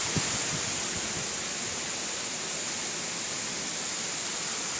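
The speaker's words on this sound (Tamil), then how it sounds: "வெறும் சாரல் மட்டும் தான் அப்படியே கொட்டுற மாதிரி இருக்குது" Spray from Erachalpara waterfall drizzling down steadily behind the falls, a dense, even hiss that holds without a break, close and moderately loud.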